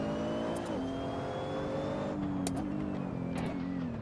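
A GRT GT3 race car on the bumpy Tail of the Dragon road at Deals Gap, its engine droning loud and close, with pitch rising and falling through shifts.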